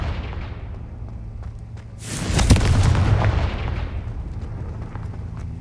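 Confringo fire spell blast in Hogwarts Legacy, a loud booming explosion that bursts over a low rumbling game soundscape and fades slowly over a few seconds.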